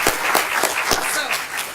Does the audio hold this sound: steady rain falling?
no